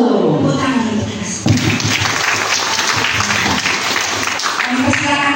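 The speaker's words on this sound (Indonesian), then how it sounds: "Tepuk tangan untuk Yesus" Children and adults at a Sunday school Christmas service clap together, a loud, full burst of applause that swells and carries on with voices mixed in.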